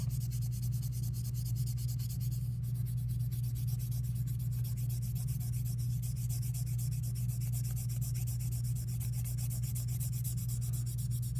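A dull pencil rubs steadily over paper, shading graphite for a transfer; a soft, continuous scratchy hiss runs close and constant throughout over a low steady hum, with no talk.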